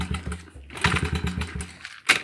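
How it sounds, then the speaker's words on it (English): Small engine of a Honda XR70R minibike sputtering unevenly in choppy low pulses before dying out, with a sharp clatter near the end, heard close and brief. "Of course it won't fire up on camera, and it dies."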